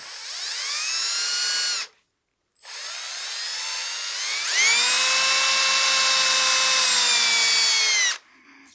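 A drill drives a brad point bit into wood while a snowman oil candle is turned: a loud, close motor whine runs for a couple of seconds, stops briefly, then starts again and climbs in pitch before cutting off.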